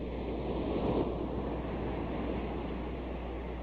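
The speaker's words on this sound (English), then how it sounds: "the sound of crashing waves" Ocean waves crash and wash ashore in a steady, continuous roar, with wind rushing across the microphone throughout and no voices.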